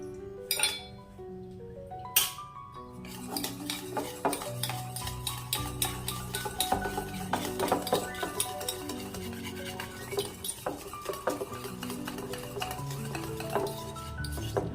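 Cheese-making ingredients with milk mixed in a bowl, a spoon clinking and tapping against the sides in quick, irregular strokes, close and fairly bright, with a faint tonal ringing in the background and no speech.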